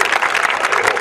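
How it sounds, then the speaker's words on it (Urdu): Audience applause greeting the poet Meesam Gopalpuri at a mushaira poetry gathering in Vapi, a dense, steady wash of clapping from a large crowd filling the whole moment. "تالیوں سے ہم استقبال کریں گے جناب میسم گوپال پوری کا."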